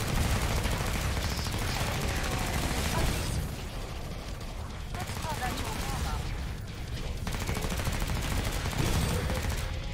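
Steady automatic gunfire in the Killing Floor 2 game, dense rapid shots rolling on for most of the stretch with short lulls, loud and close, with a voice talking over it.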